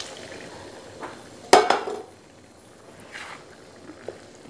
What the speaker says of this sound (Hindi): अब मैं इसमें डालूंगी काबली चना जो मैंने पहले से ही उबाल के रखा था।